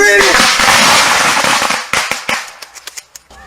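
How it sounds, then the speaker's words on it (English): Gunshots crack during a reenactment of the Moore's Ford lynching, a dense roaring volley followed by scattered sharp pops that thin out and fade, with voices in the mix. "Ready, we're gonna shoot him now."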